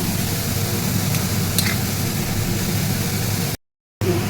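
Grated carrots for carrot halwa fry in a pan with a steady, close hissing sizzle that holds constant, then cuts out briefly to silence near the end before resuming.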